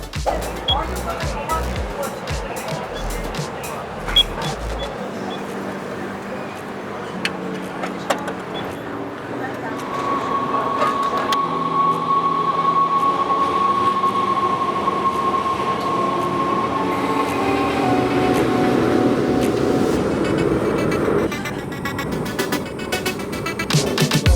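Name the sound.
train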